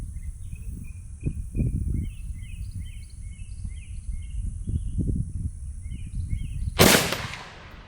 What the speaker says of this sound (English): Putting it on the shoulder, aiming, shooting.